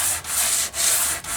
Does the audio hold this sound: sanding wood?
yes